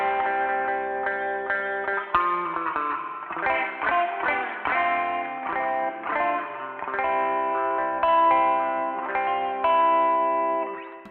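Source Audio Artifakt Lo-Fi Elements pedal in a lo-fi radio setting, bandwidth low or medium, turning a played guitar phrase into a narrow, filtered, warbling tone with chorus-like wobble, steady and upfront for about eleven seconds with no talking.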